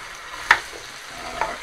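Squid and small pieces of meat stirred in a pan, giving two sharp scrapes of a utensil over a faint, steady background sizzle, with no voices.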